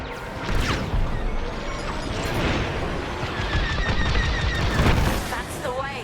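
Dense, loud starfighter weapons fire crackles and booms in rapid bursts during a space dogfight in Star Wars: Squadrons, mixed with engine roar and a voice talking over it.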